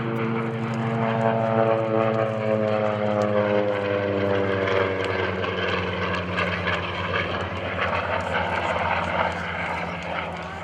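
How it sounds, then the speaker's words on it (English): A Curtiss SB2C Helldiver propeller aircraft makes a photo pass at an airshow, its radial engine droning loudly and the pitch sliding downward as it passes, then fading into distant crowd and wind noise. "It's a photo pass of the SB2C Helldiver."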